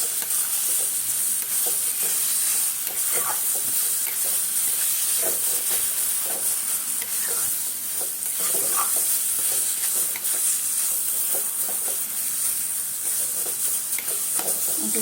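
Pointed gourd (potol) frying in oil in a pan, a continuous hissing sizzle under scattered scrapes and taps of a spoon stirring it, close and even throughout, without speech.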